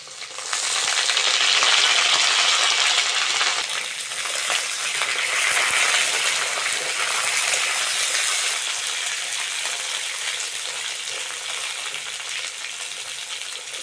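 Cut eggplant drops into hot oil after lightly fried potato and sizzles steadily at close range, a dense frying crackle that stays loud throughout and eases slightly toward the end.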